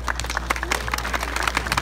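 An outdoor audience at a samurai warrior performance at an observation deck claps in a brief burst of scattered, fairly close hand claps over a low background hum.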